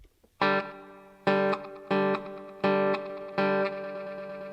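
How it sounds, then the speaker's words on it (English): An electric guitar runs through an echo pedal set for many repeats, with five strong distorted chord hits about a second apart, each ringing and smeared by dense trailing echoes. "There you can hear it's just a ton of echoes."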